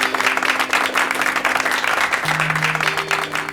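A studio audience on a televised quiz show claps steadily and loudly for a few seconds, dense and continuous, with a faint tonal hum underneath.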